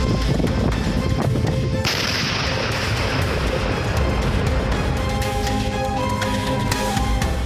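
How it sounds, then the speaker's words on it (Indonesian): Ammunition explosions at a site in Garut, West Java, come as a continuous dense roar of cracks and booms with a sharp burst near the two-second mark, loud and sustained throughout with no clear voices. "kita ke informasi terkait dengan update ledakan amunisi di Garut"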